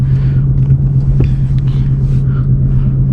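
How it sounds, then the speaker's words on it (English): A manual car rolls slowly forward as the clutch is eased off, with a steady low engine hum and rumble heard from inside the cabin, plus a few faint interior clicks and rustles and no speech. "So you see how the car is rolling?"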